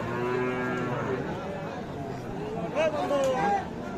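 A black-and-white Friesian cow at a cattle market moos in long, loud, close calls, with a rising bellow near the end over a background of crowd chatter.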